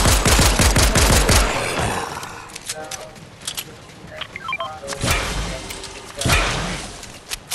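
Rapid gunfire from a video game squads match, a fast burst of automatic shots up front followed by scattered single shots and impacts, with more bursts later amid game sounds.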